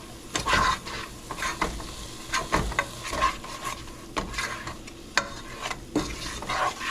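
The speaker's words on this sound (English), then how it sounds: "Now we're just gonna stir everything in." A spoon stirs roux into a pot of gumbo with repeated scraping strokes against the pot over a low simmering sizzle. The strokes are close and come at an uneven rhythm.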